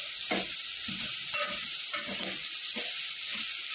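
Ivy gourd pieces fry in hot oil and are stirred, a constant close sizzle with several soft scraping strokes of a spoon through the pan, with no talking.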